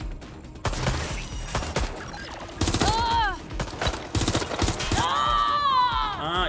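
Gunfire in the video game Watch Dogs Legion, with several bursts of rapid shots and sharp impacts, loud and close, mixed with in-game voices and groans.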